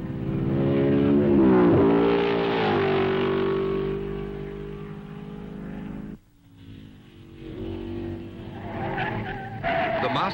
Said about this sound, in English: Britain's #1 driver Stirling Moss, and the two fastest drivers drive the world's fastest car round the tree-lined circuit of Spa.